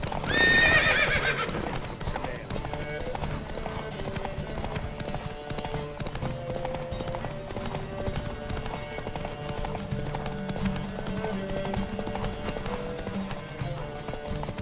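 Steady clip-clop of galloping hooves with a horse whinny near the start, over a continuous music bed, loud and close, from a horse race in the video game The Witcher 3: Wild Hunt.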